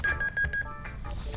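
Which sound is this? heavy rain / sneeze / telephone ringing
telephone ringing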